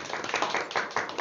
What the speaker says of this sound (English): Claps from students.